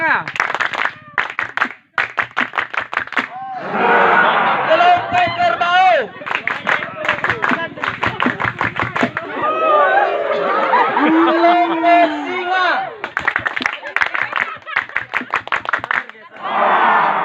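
Groups of students on a beach outing take turns clapping the 3-3-7 rhythm, loud, brisk claps in sets, with a leader calling out group names and the crowd chattering and shouting between rounds.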